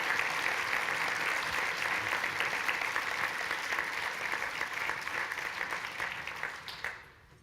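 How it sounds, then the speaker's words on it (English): Warm audience applause fills the room at a success and leadership breakfast, steady and even for several seconds before fading out quickly near the end. "please, firstly, just a warm round of applause for Mark"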